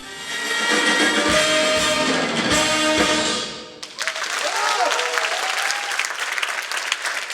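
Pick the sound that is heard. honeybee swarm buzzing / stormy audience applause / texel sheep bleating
stormy audience applause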